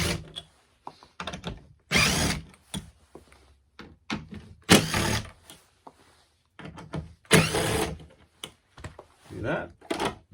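Four Phillips No. 2 screws being backed out of the door speaker on a 1999-2005 Mazda Miata NB, heard as loud, close bursts of a power driver whirring in repeated short runs with brief pauses between them.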